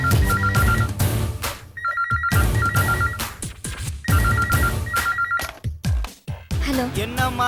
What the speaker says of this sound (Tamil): இந்த உன் வீட்டு நம்பரை டயல் பண்ணி கொடு